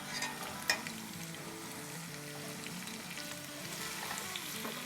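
Meat for gosht achar frying in oil on medium-high heat, a continuous even sizzle with an occasional stirring knock, close and steady.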